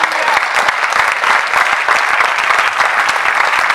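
A church congregation claps to acclaim the Lord, a steady, dense round of applause that holds at an even loudness for the whole stretch, with no talk over it.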